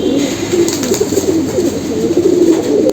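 An old army pigeon at a home loft coos steadily in low, rolling calls, close and fairly loud with no voices.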